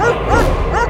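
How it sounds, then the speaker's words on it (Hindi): A single short dog bark, loud and close, with a slightly whiny, yelping tone. "ये फ्रीजर क्यों भौंक रहा है?"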